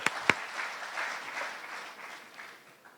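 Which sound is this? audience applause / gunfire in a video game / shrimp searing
audience applause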